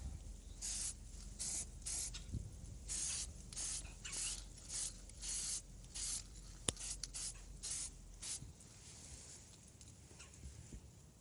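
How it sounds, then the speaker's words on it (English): Repeated short bursts of spray paint hissing against a computer case, about a dozen quick puffs in irregular rhythm, close and fairly loud, with a faint click midway. "It's spray!"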